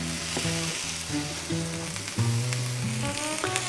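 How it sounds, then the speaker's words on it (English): Turkey slices sizzling on a hot buttered griddle, a constant close crackling fry with soft clicks, heard under background music, no talk. "Griddle is hot. We're gonna let those keep going."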